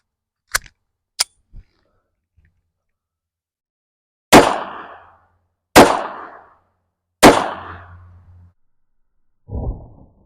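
Three loud, close .380 ACP pistol shots fired into a log outdoors, each a sharp crack with a short decaying tail, spaced about a second and a half apart, preceded by faint clicks and followed by a softer thud.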